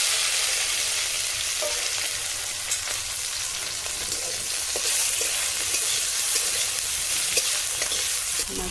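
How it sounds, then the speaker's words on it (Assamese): Previously fried puthi fish sizzles briskly in hot oil in a kadai, a loud, continuous crackle close by, with occasional light pops and scrapes of stirring. "মাছখিনি এতিয়া ভাজা হৈ গ'ল।"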